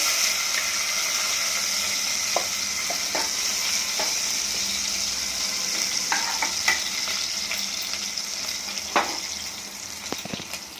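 Green chilies hit a pan of golden-browned garlic in hot oil for a dry cauliflower-potato dish, giving a steady, close sizzle and crackle with occasional sharp pops and spatula scrapes.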